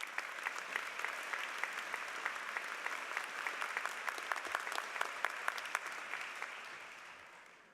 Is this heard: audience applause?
yes